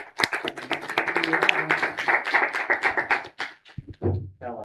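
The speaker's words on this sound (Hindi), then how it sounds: "आप लोगों की भरपूर तालियां हादी शौकत, आइए।" Audience clapping on a quiz game show as a contestant is welcomed to the hot seat, a loose patter of individual claps from a small group that thins out and stops near the end.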